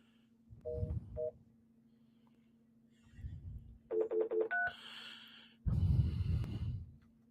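Telephone dialing tones on a broadcast phone system as the line is reconnected after going down: a short pair of beeps, then a quick burst of several DTMF tones, with a steady hum and breathy noises between them.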